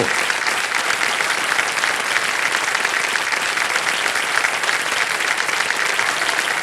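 Loud, sustained applause from the KBC quiz show studio audience, a dense even clapping roar lasting several seconds with no voices.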